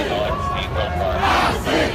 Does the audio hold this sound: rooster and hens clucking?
no